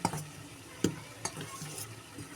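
Rice flour, salt and hot boiled water being stirred together in a bowl for chushi pitha, with a few soft scraping knocks of the spoon over a quiet background.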